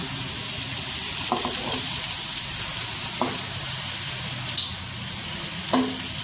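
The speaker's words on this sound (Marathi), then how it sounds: "अमूल बटरचं 1 पॅकेट टाकलं कुकरमध्ये, आणि त्यात आता हा कांदा जरा मऊ होईपर्यंत, रंग बदलेपर्यंत परतून घेणार आहे" Chopped onion sautéing in a packet of melted Amul butter inside a pressure cooker, a continuous close sizzle broken by a few soft scraping stir strokes, no talking.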